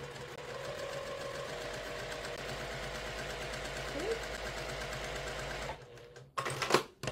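A sewing machine fitted with a new needle runs steadily at a constant hum for several seconds, close and alone, then stops abruptly and is followed by a few brief clicks and handling noises.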